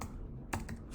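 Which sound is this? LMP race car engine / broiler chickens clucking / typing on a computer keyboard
typing on a computer keyboard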